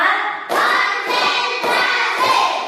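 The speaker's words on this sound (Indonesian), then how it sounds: "sekarang ibu coba tepuk 1, tepuk 2, tepuk 3, tepuk 4" Elementary school children clap together in a counted class clapping routine, producing about four distinct, evenly spaced group claps, each ringing briefly with their voices chanting along.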